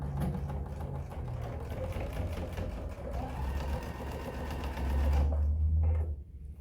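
A sewing machine stitches seams on a fabric pocket bag, running as a close, steady mechanical whir with a brief change in pace before it stops near the end.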